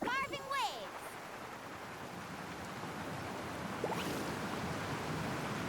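Steady rushing water and surf wash evenly under the riding in Genshin Impact while surfing the waves, and a brief chime and a whoosh sound near the start.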